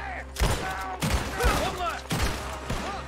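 Gunfire in Red Dead Redemption 2, a run of sharp repeated shots and booms in quick bursts, loud and close, with a voice talking over parts of it.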